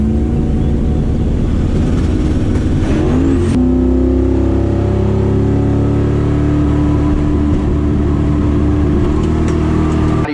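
A car engine fitted with a 118mm turbo revs hard on a two-step launch limiter, a loud, sustained popping drone that sharply jumps in pitch midway and holds steady, with no talk.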